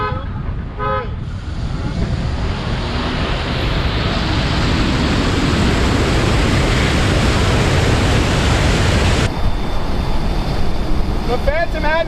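A Rolls-Royce Dawn and a Phantom accelerate side by side in a drag race, a loud sustained roar of engines and rushing wind that rises and then drops, with brief voices at the start and the end.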